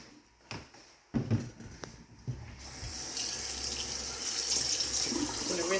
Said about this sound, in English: we're going to go ahead and wash these in the sink